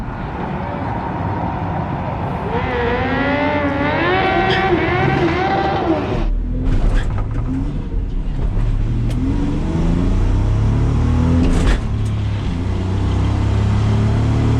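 A stripped race car engine on a drag strip screams up through rising revs, then roars hard and loud at close range as it launches and keeps pulling.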